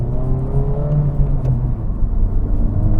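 2023 Honda Civic Type R engine pulling hard from inside the cabin at night, a loud, continuous rising drone with climbing engine harmonics.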